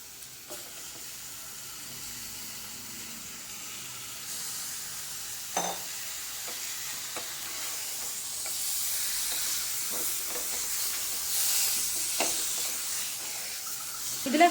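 Washed chicken pieces go into a spiced masala in a pan for a simple chicken gravy, giving a steady, moderately loud sizzle and hiss with occasional clinks and scrapes of stirring.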